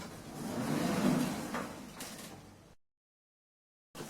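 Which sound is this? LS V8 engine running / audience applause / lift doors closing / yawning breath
lift doors closing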